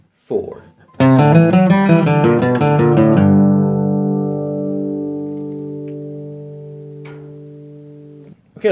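A bluegrass guitar half-step lick played fast: a quick burst of bright picked notes over about two seconds, then a long ringing final note fading out, close up, with brief voice sounds at the start and near the end.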